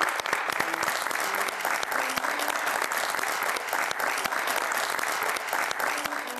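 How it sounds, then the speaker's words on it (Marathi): Studio audience applause at a Marathi TV game show for couples: dense, steady clapping that stays loud and even for the whole stretch, with faint tonal hints of music underneath. "यांच्यासाठी जोरदार टाळ्या."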